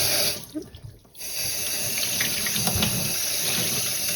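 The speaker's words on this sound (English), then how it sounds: "let's give it a rinse out with some cool tap water" Cool tap water runs steadily into a sink, rinsing dyed sock yarn, with a constant splashing hiss, after a short clatter and a brief pause near the start.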